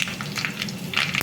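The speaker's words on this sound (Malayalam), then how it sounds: "കടുക് പൊട്ടിയതിന് ശേഷം അതിലേക്ക് 3 വറ്റൽ മുളക് മുറിച്ചതിട്ട്" Dried red chillies and mustard seeds crackling in hot oil give a steady, close frying sizzle with scattered pops and one sharp burst near the end, with no voices.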